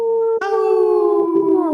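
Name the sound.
people imitating a wolf howl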